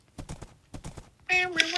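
Horse hooves clip-clop in two quick bursts in a video game, followed by a voice speaking.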